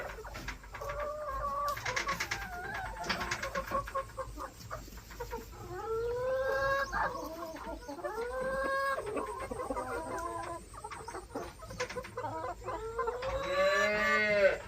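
Chickens cluck and squawk in bursts, with several birds calling over a quiet farmyard background.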